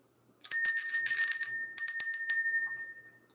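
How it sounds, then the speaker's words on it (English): A bell rings bright and clear in two quick bursts of rapid strikes, loud and close, and the last tones ring on and fade out into silence. "Let's go ahead and ring the bell."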